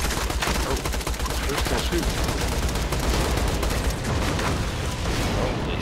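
Dense, loud gunfire and explosions rattle nonstop in Borderlands 2, Tiny Tina's Assault on Dragon Keep, a barrage of rapid shots and booms with a player speaking briefly over the din.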